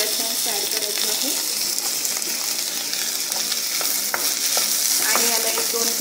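Tomato and soya chunks sauté in a hot pan, a bright continuous sizzle with frequent scraping stirs of the spoon, close and fairly loud, without speech.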